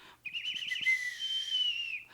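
A single long, shrill whistle blast, warbling briefly at the start and then holding a steady high tone for about two seconds.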